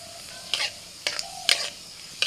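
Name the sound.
cumin seeds sizzling in hot mustard oil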